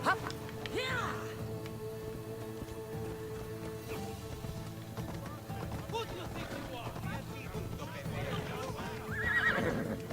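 In Assassin's Creed Odyssey, a horse whinnies loudly at the start and again near the end, with clip-clopping hooves and game ambience between and a voice talking over it.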